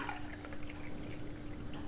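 About one and a half cups of water poured into a kadai of sugar for syrup, a faint close trickle and splash lasting a couple of seconds with no talking.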